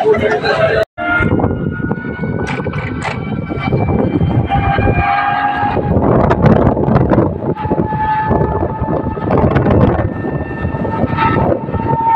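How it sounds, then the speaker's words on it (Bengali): Eden Garden local train at Kakdwip railway station, loud and close, with rumbling carriages, a sustained horn-like tone and constant crowd chatter and voices throughout. "উঠে পড়েছি ইডেন গার্ডেন লোকাল ট্রেনে"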